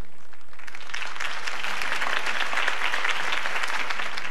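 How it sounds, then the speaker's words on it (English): In Batman: The Telltale Series, a crowd applauds after a campaign speech, a broad wash of clapping that swells after a quiet start and holds steady, with no voices over it. "If only Mr. Wayne, my campaign's largest backer, could have heard that applause"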